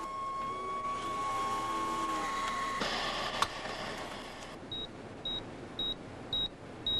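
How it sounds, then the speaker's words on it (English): A computer terminal's short electronic beep, signalling a lab login, repeats five times at a steady rhythm, clear and close, after a stretch of faint hum and room noise. "I programmed my terminal to beep whenever anyone logged into the lab."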